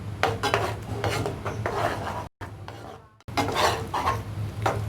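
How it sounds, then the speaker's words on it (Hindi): Moong dal stirred in melted ghee in a pan over a medium gas flame, a close scraping and rubbing of a spoon against the pan that carries on steadily, broken by two short pauses. "अब इसमें हम अपनी मूंग की दाल डालेंगे, और मीडियम गैस पर इसको धीरे धीरे चलाते हुए पकाते हैं।"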